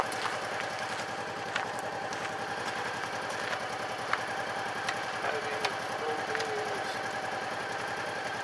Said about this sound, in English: You can hear it's idling along nicely.